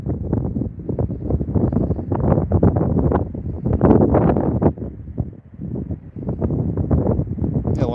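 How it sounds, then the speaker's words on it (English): Strong outdoor wind buffets the microphone in heavy, irregular low rumbling gusts that fill the whole stretch, loud and close, with a brief lull near the end. "Oh, it's windy."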